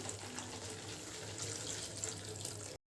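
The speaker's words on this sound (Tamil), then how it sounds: "இப்போ இது ஒன்று தண்ணி சேர்த்துக்கலாம்" Water pours steadily into a pot of curry on the stove, a continuous soft splashing rush that stops abruptly at the end, with no talking.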